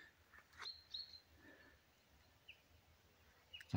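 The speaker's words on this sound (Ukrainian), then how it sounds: "Пташки співають" A few faint, brief bird chirps and tweets in a quiet pine forest in the morning, scattered and distant over a low, soft background, with no voices.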